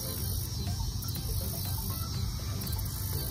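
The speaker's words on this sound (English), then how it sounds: "Insects are making sounds." A steady, dense chorus of chirping insects along a stream in Kansas City. The high trilling carries throughout over a low background rumble, with no talk.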